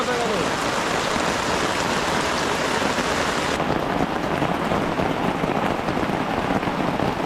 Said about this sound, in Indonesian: Hujan terus, ngopi terus